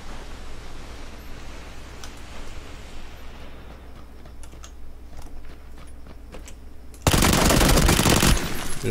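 Automatic gunfire in the video game PUBG: scattered sharp shots, then a loud, dense burst of rapid fire near the end.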